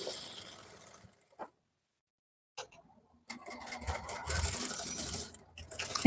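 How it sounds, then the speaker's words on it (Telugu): A sewing machine stitches a cross belt for a garment in short bursts, with a silent pause in the middle, then resumes steady close-up running and rattling. "నేను ఎంత జాగ్రత్తగా కుడుతున్నానో చూడండి."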